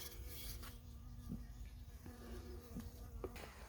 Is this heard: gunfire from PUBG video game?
no